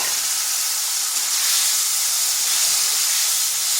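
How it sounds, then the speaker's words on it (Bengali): Salted, turmeric-coated potatoes frying in hot oil, a loud, steady, close hiss of sizzling that runs unbroken and alone. "এবার ওই তেলের মধ্যে আলুটাকেও ভেজে নিচ্ছি।"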